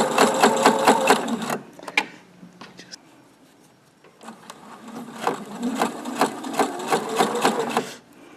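A sewing machine runs in two steady bursts of rapid, even stitching as fabric feeds through under the presser foot, with a quieter pause in the middle holding faint handling clicks.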